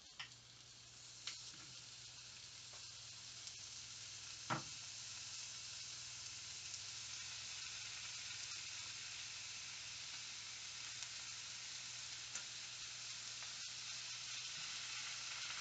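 Imitation bacon strips sizzle steadily in a frying pan, a continuous close, even hiss of frying with a few faint clicks and pops throughout, no talk.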